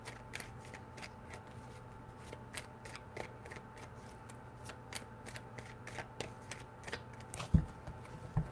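Tarot cards are shuffled in a quiet room, giving faint, rapid papery flicks and taps that repeat in quick irregular bursts, soft and close.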